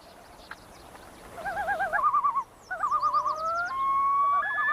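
A common loon calls across a large lake in wavering, yodel-like tremolos, then long rising wails that ring out clear and strong, with no talking.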